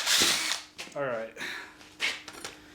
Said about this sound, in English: you're going to want to drill in the center